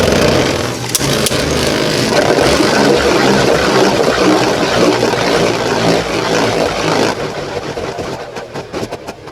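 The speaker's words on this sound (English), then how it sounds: "let's throw it up against a left spinning Beyblade, Wizard Fafnir" Beyblades clash in a left-spin battle against Wizard Fafnir, a loud, steady whirring grind that holds for about seven seconds and then thins out as the spin weakens.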